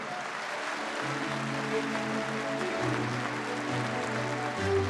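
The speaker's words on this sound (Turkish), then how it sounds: "tüm heyecanımızı görebilmek için kuvvetli bir alkış rica edebilir miyiz lütfen?" Teachers applaud at a teacher appointment ceremony attended by the Turkish president, a steady wash of clapping from a large hall that lasts throughout, with sustained musical tones sounding alongside.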